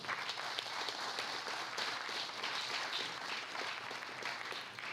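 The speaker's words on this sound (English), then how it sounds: "So give her a round of applause if you could." Faint, steady crowd applause at a high school sports player-of-the-year awards ceremony honoring a basketball athlete, many hands clapping in an even, distant wash with no break.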